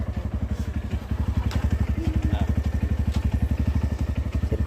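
A motorcycle engine runs close by, its steady, rapid chugging beat thumping evenly throughout with no pause.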